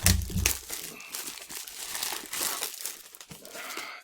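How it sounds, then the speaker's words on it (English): Plastic wrap crinkling and tearing as it is pulled off an Apple M1 MacBook Air box, close crackling rustles in uneven bursts over about four seconds. "Taking off the plastic"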